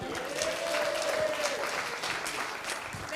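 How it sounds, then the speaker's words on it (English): Guests at a 50th birthday celebration clap for a family group on stage, sustained moderate applause with scattered individual claps, a faint tonal hum underneath and no talking. "Big round of applause"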